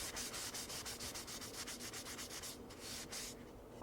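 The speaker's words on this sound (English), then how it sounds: "Then I just rub off all the oil." Oil is rubbed off a freshly turned gum wood bowl with steady, rhythmic cloth strokes, soft and close, ending in a sharp bump.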